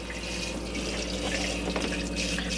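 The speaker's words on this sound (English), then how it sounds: "as long as the pump's on, you'll be able to get a pressurized flow of water" Pressurized water runs steadily from the tap in an Elddis Signature CV20 caravan with the water pump switched on, a continuous near hiss and splash with no talk.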